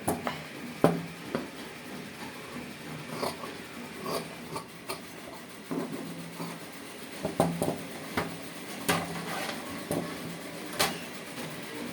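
Scissors snip through a paper neck pattern for a girls' churidar, with sparse, irregular crisp cuts and rustling of the sheet at close range, no talking.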